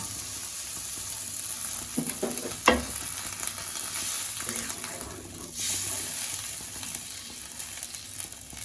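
Ginger and cumin paste sizzles in a hot pan, then water is poured in with a sharp hiss and a brief splash that fades back into a steady crackle.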